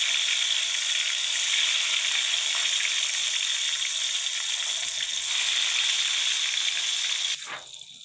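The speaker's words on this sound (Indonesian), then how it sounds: "Kita goreng tahunya." Tofu fries in hot oil with a loud, continuous crackling sizzle that holds steady, then a short clatter of cookware near the end.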